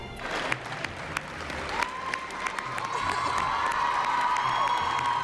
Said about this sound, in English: We got a standing ovation from the crowd and people were crying.